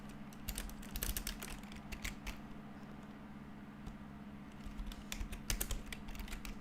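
Computer keyboard keys clatter in quick irregular bursts with short pauses, close and fairly quiet, over a steady low electrical hum.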